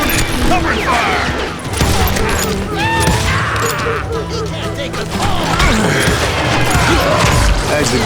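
Rapid gunfire and shouting in a Wild West shootout in the Call of Juarez Gunslinger video game, dense overlapping shots and mechanical clatter, loud and continuous.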